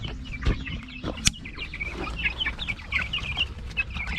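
Rhode Island Red chickens clucking nearby, a run of short repeated clucks and murmurs from several birds, with a couple of sharp knocks early on, no talking.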